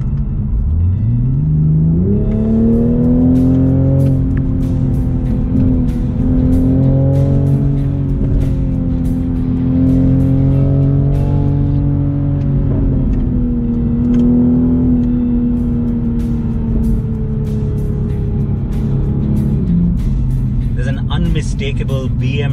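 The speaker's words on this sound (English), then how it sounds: "Okay, now time to put it in sport." A BMW Z4 in sport mode, its engine note climbing as it accelerates, then holding a loud, sustained drone, rising again and easing off near the end.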